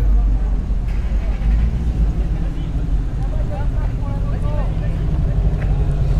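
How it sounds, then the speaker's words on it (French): A Porsche 356 Series S pulls away at a classic car gathering near a château, its engine a steady low drone under a loud crowd murmur and nearby chatter, with the car never standing out sharply from the surrounding noise. "elle est en train de partir une 356, Porsche 356 Série S"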